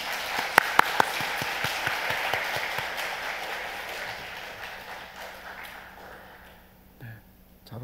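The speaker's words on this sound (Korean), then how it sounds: "박수로 우리 환영하겠습니다." A church congregation at a Wednesday evening service claps in welcome for a newcomer, with scattered claps and a few sharp slaps early on that thin out and fade over several seconds.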